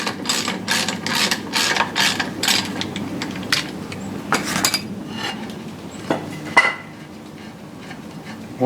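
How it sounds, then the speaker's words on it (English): Wrench ratcheting a nut loose on a Yamaha 225 HPDI outboard lower unit, a block of wood against the prop, producing rapid metallic clicks in bursts with scattered clanks, close and alone. "This nut shouldn't be on that too tight"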